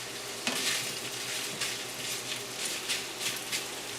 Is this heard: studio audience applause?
no